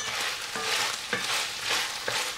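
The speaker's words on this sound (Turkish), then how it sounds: "Ve kendi yağında tekrardan şöyle bir güzelce kavurdum." Beef kavurma sizzling in its own tail fat in a pan, steady frying hiss broken by about four soft scraping stirs at regular intervals, close and alone with no talk.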